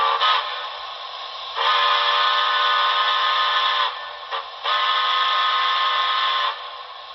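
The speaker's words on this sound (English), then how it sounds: "Long whistle." A long steam whistle from a Paragon4 sound decoder in a Broadway Limited NYC Commodore Vanderbilt Hudson model locomotive, heard as two sustained chime-like blasts after a brief toot, loud and close with nothing else around.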